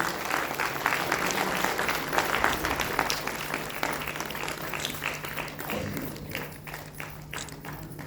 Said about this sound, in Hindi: कृपया जोरदार तालियां।